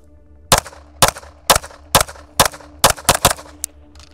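Nine sharp, loud pistol shots from an Atlas EOS handgun during a shooting drill, the first few evenly spaced about half a second apart and the last ones coming faster, with no one talking.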